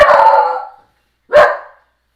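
A dog barks twice indoors, loud and close, each bark drawn out with a howling edge and separated by a short silence.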